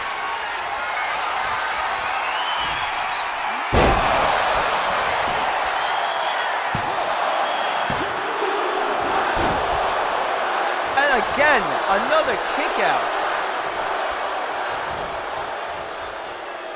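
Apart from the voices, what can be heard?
wrestling crowd cheering wildly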